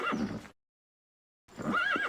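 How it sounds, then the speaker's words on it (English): A horse neigh plays as the error sound of a Microsoft Xena computer theme, two whinnying bursts split by a second of silence, loud and close with no talk. "The error noise in my Microsoft Xena theme is a horse."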